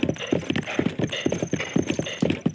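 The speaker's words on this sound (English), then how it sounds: "Stop horse, can you go the way I want to go?" A horse in the game Zelda Breath of the Wild gallops in a quick, steady clip-clop of hooves, close and loud, with a brief whinny-like tone above it.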